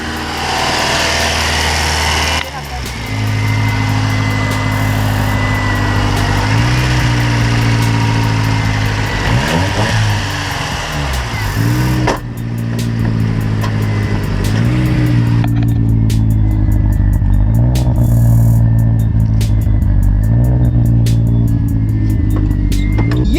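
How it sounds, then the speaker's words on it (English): A car engine cold-starts with its mode sensor disconnected, then idles loud and close with a rough, uneven note and a few blips in revs. "let me give you guys a cold start"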